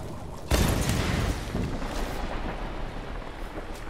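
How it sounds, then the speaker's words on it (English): Huge explosion in a cavern in the Tomb Raider 2013 video game: a sudden loud blast that settles into a long, rolling rumble fading slowly over several seconds. "That was a huge explosion."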